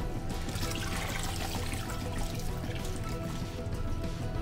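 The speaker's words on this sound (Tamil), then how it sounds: "ரெண்டு கப் தண்ணி ஊற்றிக்கோங்க." Two cups of water pour steadily into a pot of fish head curry, a continuous splashing gush heard close up with no talking.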